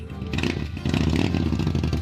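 A motorcycle engine rumbles nearby, its revving growl swelling slightly as it goes by, with some clattering in the background.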